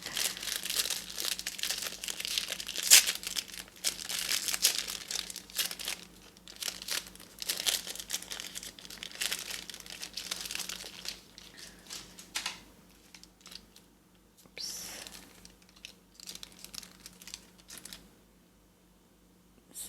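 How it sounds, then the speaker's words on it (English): Makeup brushes from a Japanese fude haul, including a Houkodou flat cheek brush, being unwrapped from plastic packaging: dense, continuous crinkling and crackling close by for much of the span, thinning into sparse rustles and then quiet near the end. "Okay, it's time to unwrap them all."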